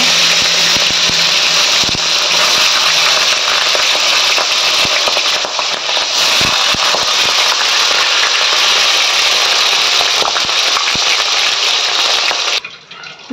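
Fish frying in a pan, a loud continuous hiss and sizzle that stays close and steady before cutting off abruptly at the end, with faint knocks underneath.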